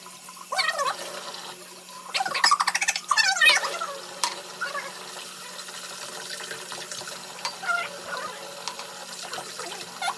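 Water poured from a container into a shorter vase holding a plant that has grown roots, a few brief splashing bursts early on, then a quieter trickle and soft handling noises in a room.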